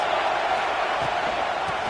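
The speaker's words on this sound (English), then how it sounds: "This crowd trying to make life miserable for this offense." Steady roar of a college football stadium crowd at an OSU vs Oklahoma game, a broad continuous wash of massed voices at even loudness throughout, with faint thumps beneath.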